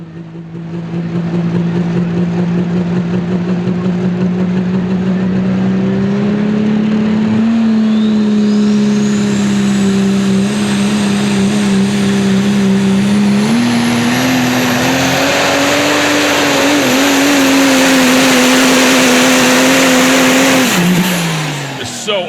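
A super stock diesel 4WD pulling truck at a pro pulling event roars loud and close for about twenty seconds as it builds boost. The engine note climbs steadily in pitch, then cuts off abruptly near the end.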